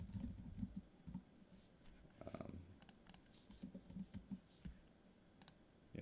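Typing on a computer keyboard comes through faint and close, irregular clusters of soft key taps with brief pauses, heard alone without talk.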